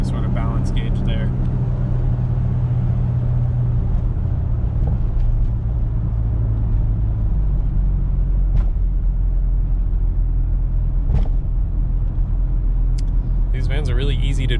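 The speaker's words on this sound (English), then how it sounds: "These vans are really easy to drive." A 1992 Mitsubishi Delica Chamonix L300 diesel 4WD van drives along, its steady low engine drone and road rumble heard from inside the cabin, with a voice talking over it.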